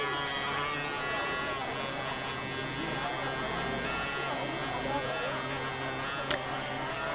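A man being tattooed at the Tazaungdaing festival in Shan State, Myanmar, with a tattoo machine giving a steady electric buzz that runs the whole time under dense, busy background noise.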